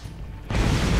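A car explodes in the video game Borderlands: a sudden loud boom erupts midway and rumbles on with a heavy low-end roar, following a quieter moment.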